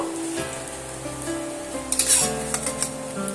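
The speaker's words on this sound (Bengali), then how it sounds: "এবার আমি পরোটাটা এইভাবে উল্টে দেব দিয়ে এপিটটা আমি সুন্দর করে লাল লাল করে একটু ভেজে নেব" An egg paratha fries in an oiled pan after being flipped, with a continuous close sizzle and several sharp spatula clinks and scrapes near the middle and end.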